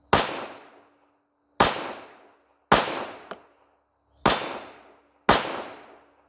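Five sharp, loud gunshots from a Glock 28 pistol, spaced about a second apart, each a hard crack with a short decaying tail outdoors, with a faint clink after the third.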